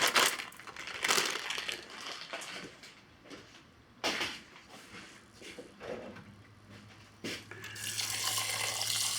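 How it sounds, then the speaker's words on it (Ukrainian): Water runs from a tap into a pot of rice in intermittent bursts, with rustling and clatter between pours and a longer, stronger stream at the end. "Додаємо трошки водички."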